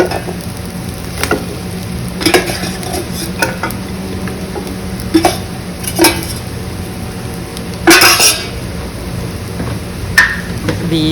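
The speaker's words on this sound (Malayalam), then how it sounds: "ബീഫിലിട്ട് കൊടുത്തിട്ട് നന്നായി മിക്സ് ചെയ്തതിന് ശേഷം ഒന്ന് ചൂടായി ഇറക്കി വെക്കാം" A spoon stirs cooked beef into ghee rice in a pot. It scrapes steadily and clanks sharply against the pot several times at irregular intervals over a soft, continuous background hiss, with no talking.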